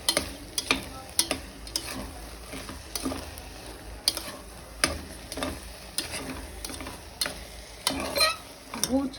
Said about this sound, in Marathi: गूळ छान मेल्ट होईपर्यंत आपल्याला असं हलवत राहायचं आहे.